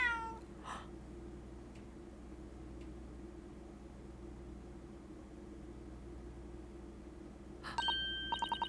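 A cat meows in the video game The Great Ace Attorney Chronicles, in a room full of books. One clear meow comes near the start and a brighter burst of meowing near the end, over a steady low background hum with no music.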